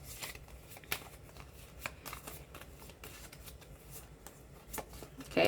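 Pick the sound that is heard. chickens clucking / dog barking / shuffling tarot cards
shuffling tarot cards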